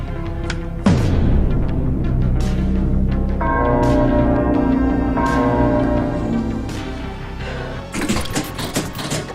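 An eerie bell effect from a Stranger Things virtual pinball table: a struck bell tone rings out and sustains with a long shimmering decay, followed by bright machine chimes near the end, no talking.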